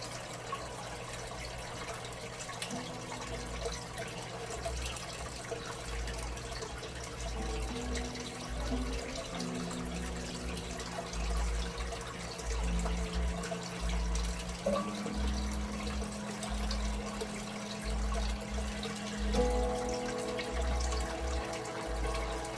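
Water drains steadily out of a home fish tank in a fish room, a continuous trickling flow with a low hum running beneath it and faint shifting tones, no voices.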